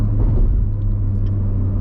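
A Chevrolet C7 Corvette Grand Sport's LT1 V8 engine accelerating rumbles steadily at low pitch, a continuous loud drone with faint higher whine, no voices.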